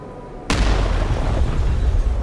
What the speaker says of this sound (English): Oh, that was a lot bigger explosion.